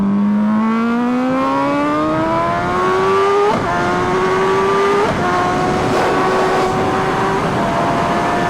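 A Superveloce motorcycle engine revs hard and close, pitch climbing steadily through the gears with brief dips at each shift, loud and continuous with no talk.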